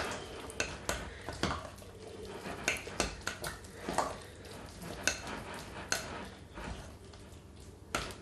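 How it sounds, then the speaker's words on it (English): A spoon stirs fudge mixture in a pot, knocking against the sides in a loose rhythm of clinks roughly once a second over a soft low scraping, close but fairly quiet. "Stir that in"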